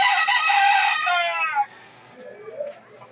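A rooster crows loudly and close by, one long drawn-out call that fades into quiet background noise.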